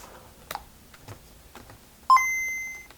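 A few soft clicks and handling noises as a GB Boy Colour handheld game console is switched on, then a bright, clean electronic power-on chime rings out and holds steadily to the end.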